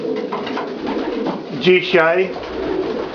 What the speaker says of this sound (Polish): gołębie hodowlane